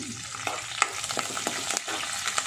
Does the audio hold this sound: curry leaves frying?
yes